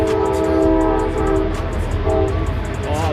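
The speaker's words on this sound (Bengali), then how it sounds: "ট্রেন যাইতেছে।" A train passes near a state park overlook, its horn blaring in long sustained blasts over the loud rumble of the cars, with no talk.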